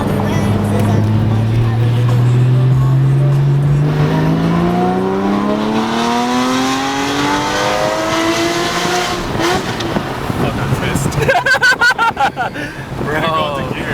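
A Porsche with an aftermarket exhaust revs and drives past, a loud, rising engine howl that sweeps up in pitch and fades, close at first with rough idle texture, and voices talking over it.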